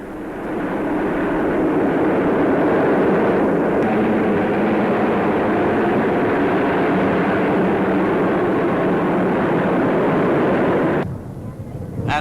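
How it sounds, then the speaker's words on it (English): Canberra bombers fly past during the 1953 RAF coronation review, a loud, sustained jet roar that fills the air steadily before dropping away abruptly near the end. "They were followed by the famous Canberra bombers."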